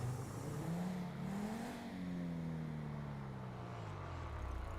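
A black SUV heading southbound on a city street passes close by, its engine note rising and then falling as it goes, with steady road noise underneath and no talking.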